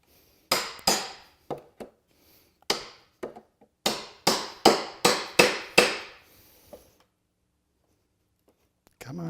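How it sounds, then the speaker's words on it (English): Sharp wooden knocks and cracks come in bursts, a quick run of hammer strikes and prying creaks close by as a nail is pulled from pallet wood, with pauses between them. "go to a hammer or a flat bar or a cat's paw to try to extract that nail"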